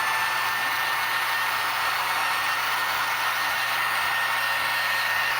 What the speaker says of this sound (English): I like to use forced heat to dry this stuff.